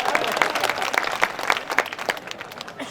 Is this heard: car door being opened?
no